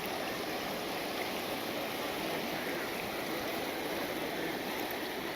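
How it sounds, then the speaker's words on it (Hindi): The Ganga river flows fast, giving a constant broad rushing of water and waves, steady and unbroken with no voices. "उनकी लहरों का शोर है"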